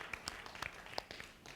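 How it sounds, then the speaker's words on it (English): Brief scattered applause from a small audience, a few sharp claps spread over a second and a half, fairly close and moderately loud with no speech over it. "We could applaud one more time."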